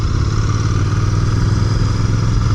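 A Royal Enfield Bear 650 motorcycle engine runs steadily while riding through London streets, a continuous loud low rumble with wind and road noise and no talking.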